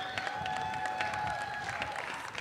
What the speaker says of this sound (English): I know you want to give another rousing round of applause.